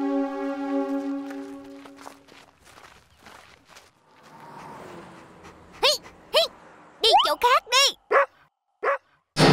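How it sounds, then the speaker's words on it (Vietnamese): Cartoon dog barks in a series of loud, sharp, separate yaps spaced across the second half, following a stretch of voices and a sustained musical tone. "con chó mà tôi thuê đã tới rồi đó"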